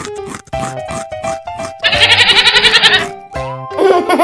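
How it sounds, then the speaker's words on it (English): A goat gives a loud, wavering bleat up close, heard over a bright children's song with music before and after. "Goat eats grass."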